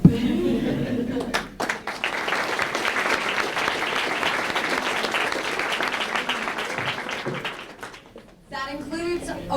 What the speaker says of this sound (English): Let's give her one more final round of applause.